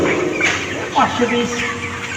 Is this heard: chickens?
yes